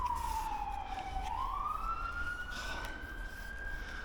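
An ambulance siren passes outside a medical office during window cleaning, its wailing tone sweeping down then rising again, moderately distant over steady street background.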